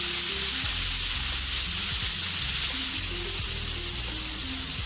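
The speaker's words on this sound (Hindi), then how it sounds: "चलिए इस मसाले को थोड़ी देर भून लेते हैं" Masala of coriander powder and cumin powder sizzling steadily in a pan for a mixed-vegetable handi, a close, constant frying hiss with soft scraping stirs and no speech.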